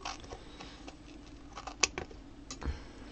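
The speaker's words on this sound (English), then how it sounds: "I'm going to cut that off" Scissors snipping through double-sided tape on a travel sewing box, with a few quiet, close cuts and one sharp snip standing out over light handling noise.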